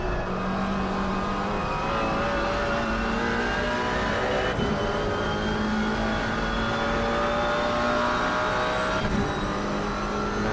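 Race car engines in an Xbox GT4 championship racing game at Silverstone, including a McLaren, whine steadily at high revs with shifting pitch, a continuous loud drone of several cars.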